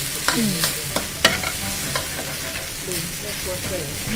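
Spice paste stir-fried in a pan for Thai sweet pork, giving a steady sizzle broken by several sharp scrapes and clacks of a spatula against the pan.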